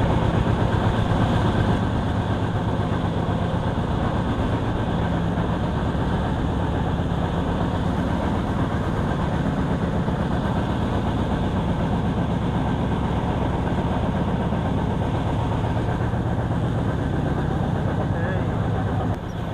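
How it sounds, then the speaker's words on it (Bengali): Sundarban Express train speeding along near the Padma Bridge, a steady, loud rumble of wheels and carriage noise that fills the whole stretch without a break. "আর এই ট্রেন কিন্তু খুব গতিতে চলছে"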